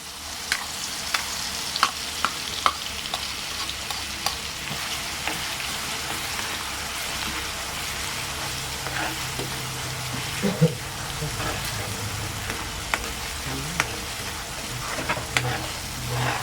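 Garlic stir-frying in a hot pan, a continuous close sizzle with frequent scrape and clink ticks of the spatula stirring, and a voice talking over it at times.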